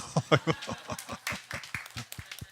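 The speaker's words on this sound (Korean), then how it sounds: "박수." Congregation clapping during a Korean Friday church service, a short burst of individual claps with a slightly uneven rhythm, fairly close and moderately loud, with a bit of voice and chuckling mixed in.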